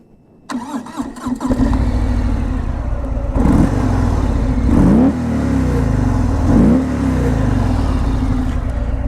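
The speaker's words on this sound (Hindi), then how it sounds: "अब इसका एग्जॉस्ट नोट सुन लेते हैं।" A Harley-Davidson motorcycle engine starts, then settles into a loud, close, lumpy idle with a few throttle blips giving a deep, throbbing exhaust note.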